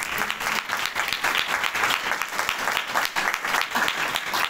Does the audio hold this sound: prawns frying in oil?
no